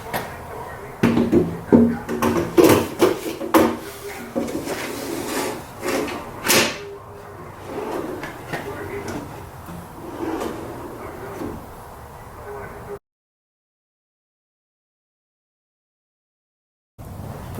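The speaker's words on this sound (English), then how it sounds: "Now, first time fit of the bottom drawer." A wooden bottom drawer on new runners slides into and out of a nightstand during a first test fit, giving a run of clacks, rolling rumbles and knocks near the mic, then a stretch of silence.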